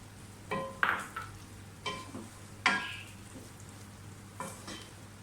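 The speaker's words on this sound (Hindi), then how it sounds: "साथ ही जो हमारे टमाटरों की प्योरी है वो भी डाल दें।" Minced meat keema frying in a pan as tomato puree goes in, with a few bursts of sizzling and spoon scraping spread over a low steady hiss, close and fairly quiet, no talking.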